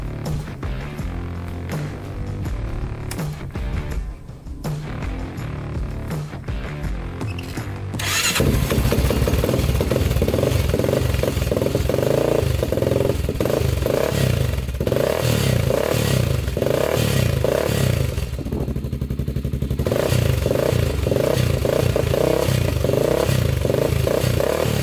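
Honda 400ex ATV engine starting and then revving loudly and steadily up close as it heads off on a test drive, with rough mechanical clatter throughout.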